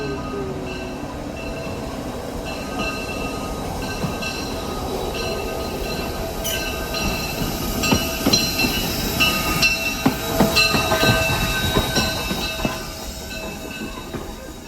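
Granite Rock 10 excursion locomotive, built in 1942, runs along parallel track on the Sacramento Southern line, with steady rail rumble, rhythmic wheel clatter and occasional metallic squeals building louder toward the end, no talking.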